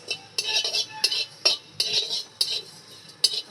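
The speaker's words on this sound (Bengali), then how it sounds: "গোটা ধনে, এগুলো আমি ভালো করে টেলে নেব।" Whole coriander seeds are dry-roasted in a pan and stirred with a metal utensil, giving repeated scraping clinks and rattles in an uneven rhythm, close and fairly loud.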